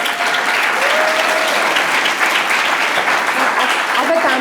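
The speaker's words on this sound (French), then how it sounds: "Applaudissements." Dense, loud applause from a large audience at a Tony Parker talk fills the whole stretch, steady and sustained with no break.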